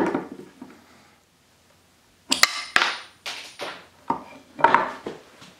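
A homemade resin hammer working a nail back out of wood, a sharp metallic knock followed by a series of creaking, scraping pulls and clunks, close and loud after a brief quiet gap.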